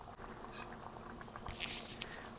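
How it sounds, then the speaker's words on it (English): Chicken curry simmers on low heat, its soft bubbling quiet and close, with a brief brighter burst of bubbles partway through. "It's boiling nicely on a low heat"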